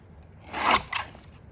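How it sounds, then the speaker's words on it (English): A blade trims the edge of card stock while a handmade card is being assembled. Two short, close, raspy cutting strokes follow each other in a quiet room. "let's just trim off that edge and make it look like it's meant to be that skinny"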